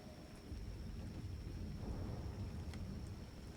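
Video game thunder rolls as a quiet, continuous low rumble with a hissing, rain-like wash over it, with no voices.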